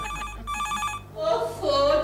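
Telephone bell ringing in a Hindi TV comedy scene, a bright repeating electronic ring in steady bursts, close and loud with a low hum beneath, followed by a person's voice at the end.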